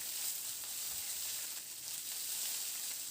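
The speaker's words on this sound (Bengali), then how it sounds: "পেঁয়াজটা দিয়ে এবার নাড়াচাড়া করে পেঁয়াজটাকে ভেজে নেব হালকা লালচে ব্রাউন হওয়া পর্যন্ত" Chopped onion frying in hot oil in a wok gives a steady, even sizzle, close and continuous with no talking.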